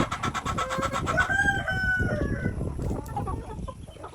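A rooster crows once, close and clear, amid the low clucking of other fowl around it.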